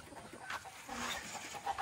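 Loose farm chickens cluck in short, soft bursts at a moderate distance, a few scattered calls over a quiet outdoor background.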